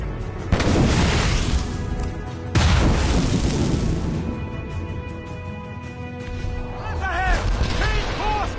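Ship cannons firing in the naval battle of Assassin's Creed Rogue Remastered on PS4: two heavy booming blasts about two seconds apart, with rumbling aftermath, shouted crew orders and creaking rigging around them.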